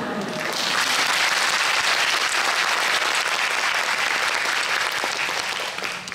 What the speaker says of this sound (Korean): 그 유쾌하고 좋은 얘기를 들려주신 우리 감독님과 배우님들께 큰 박수를 부탁드립니다.